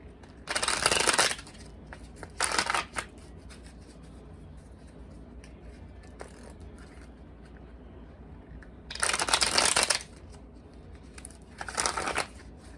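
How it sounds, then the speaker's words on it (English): Two pairs of brisk card-shuffling bursts, each riffle lasting about a second, separated by quiet room tone; close and crisp with no talking. "I know I hate shuffling sometimes, so a lot of times I pre-shuffle"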